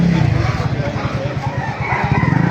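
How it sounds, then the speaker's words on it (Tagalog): Busy chicken noise with clucking and rooster crowing from many birds at a market in Baliuag, a steady dense backdrop with people talking faintly underneath. "Maraming manok."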